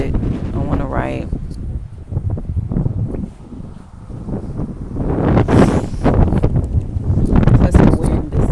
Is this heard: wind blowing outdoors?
yes